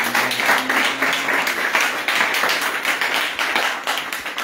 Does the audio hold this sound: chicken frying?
no